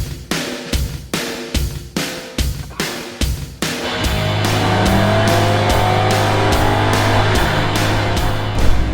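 A Mercedes-AMG E63 S Wagon in race mode, first a run of sharp, evenly spaced bursts like rapid upshifts or launch pops, then a sustained loud engine drone building as the car pulls hard, close to the microphone with no talking.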